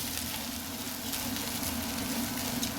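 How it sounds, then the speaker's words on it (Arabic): Chopped onions sauté in a hot pan for Alexandrian-style yellow koshari, giving a steady, close sizzle and crackle that runs unbroken at an even level with no voices. "يلا يا قمرة نشوح مع بعضينا البصلايه عشان تعسل العدس"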